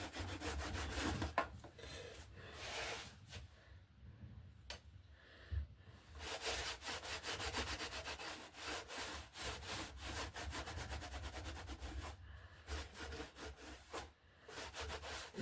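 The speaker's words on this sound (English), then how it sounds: "You can see I'm being quite abrasive over this this film, and it's not lifting." Vigorous rubbing over Ripmax Aerofilm covering on a 1/4 scale Precedent Stampe model aircraft, close, repeated back-and-forth scratchy strokes with short pauses between bursts.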